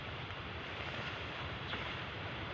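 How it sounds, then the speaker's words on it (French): Steady outdoor wind noise as the wind begins to rise, a continuous broadband rush buffeting the microphone at an even level throughout, with no voices. "en ce moment le vent commence à se lever"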